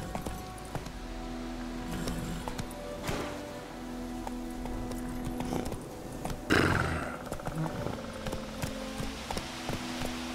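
A horse gallops in The Witcher 3, its hoofbeats a steady, continuous clip-clop over a rain-like ambient wash, with a louder snorting burst near the middle.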